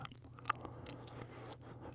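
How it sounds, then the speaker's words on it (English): Someone quietly chews gum close to the microphone, making soft, irregular wet smacks and small clicks over a low background hum. "I was chewing a piece of gum when I decided to record a video"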